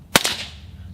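A single suppressed shot from an 11.5-inch 5.56 AR-15 rifle, a sharp close crack followed by a brief echoing report that fades quickly.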